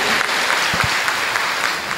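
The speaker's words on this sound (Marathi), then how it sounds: "तर त्या स्त्रीसाठी एकदा जोरदार टाळ्या झाल्या पाहिजेत." A large audience at a school event claps steadily in a dense, continuous burst of applause, loud and close, with no talking over it.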